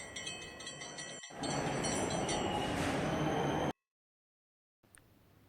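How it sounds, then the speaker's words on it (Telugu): A train rolls past on a railway line during a trip to Kashi, a loud steady rumble of wheels with faint high screeching, then it cuts to silence and resumes faintly at the end. "సడన్గా మళ్ళీ ట్రైన్ ఎందుకు వచ్చింది అనుకుంటున్నారా?"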